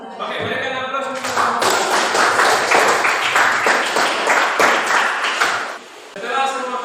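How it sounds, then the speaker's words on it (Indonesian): A classroom audience gives a presenter a round of applause for several seconds, a dense, steady patter of clapping mixed with voices, briefly dropping before a short final burst. "berikan aplaus untuk"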